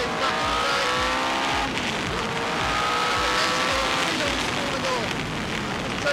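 Tyrrell P34 six-wheeled Formula 1 car, naturally aspirated with no turbo, driving on track with a flexing, shuddering chassis: a loud, sustained engine wail with shifting harmonic tones and steady rumble throughout.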